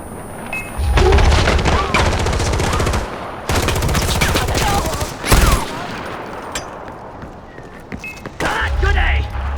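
Rapid bursts of machine gun fire from a Far Cry 4 firefight rattle loudly in repeated volleys, with heavy low thumps and short pauses between bursts, game voices calling out over the shooting.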